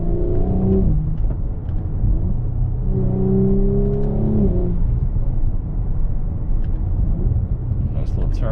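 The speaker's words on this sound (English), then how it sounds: "Watch the boost build up and then just let go." A 2023 Audi S4 B9.5 accelerates from inside the cabin, a loud droning engine and exhaust rising in pitch through gears as boost builds, with brief shift breaks and a voice speaking over it.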